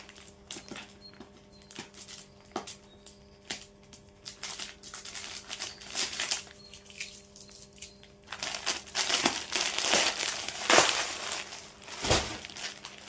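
A Kalamkari print top being unwrapped from its plastic packaging, with soft crinkling and crackling rustles that grow louder and denser in the second half, close by and with no talking.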